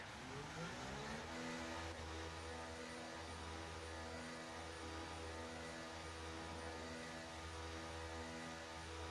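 A video-game F1 race car engine drones steadily on track, its high, even tone rising in pitch early and then holding a sustained whine.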